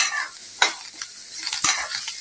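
Amla chutney ingredients with a piece of jaggery stirred in a hot pan: a few quick scraping strokes over a soft, steady sizzle, close and clear, with no talking.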